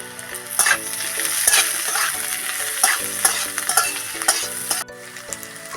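Potatoes fry with a bright, close sizzle in a pan for a fasting sago dish, while a spatula repeatedly scrapes and stirs them in uneven strokes before the sound drops away.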